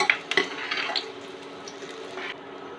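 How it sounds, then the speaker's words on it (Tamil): Garlic fries in a pan for a Tamil brinjal pachadi, with a soft steady sizzle and a few sharp clinks of stirring near the start. "ஃபஸ்ட்டு பூண்டை வந்து வறுத்து எடுத்துக்கிறோம்"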